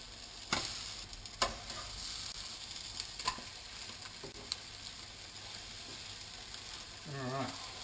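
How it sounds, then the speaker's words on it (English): An egg sizzles steadily in a hot pan, a constant close frying hiss broken by a few light pops and clicks, with a brief scrape or squeak near the end. "So now we've got the egg directly on the pan."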